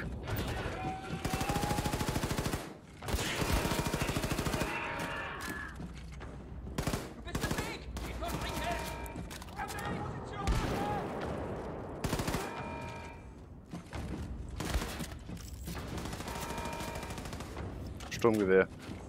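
Assault rifle fire in the video game Wolfenstein 2, loud bursts of repeated shots with sharp broadband cracks across most of the stretch, mixed with game effects and occasional speech.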